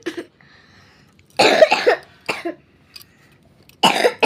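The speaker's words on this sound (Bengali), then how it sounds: "আমাদের সবার ঠান্ডা লেগেছে, কাশি হয়েছে।" A person coughs and clears their throat in a few sharp, close bursts separated by quiet pauses, with no talking.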